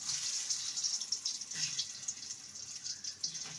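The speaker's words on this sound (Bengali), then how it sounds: "তেলটা গরম হয়ে গেছে। এবার পটলগুলোকে ভেজে নেব।" Pointed gourd (parwal) frying in hot oil, a steady close hiss and sizzle with soft crackles running throughout, no voices.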